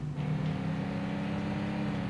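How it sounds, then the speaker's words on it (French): A car in the game Denizen drives with a low, steady engine hum, faint and constant for a couple of seconds. "Hop, je vais garer ma voiture."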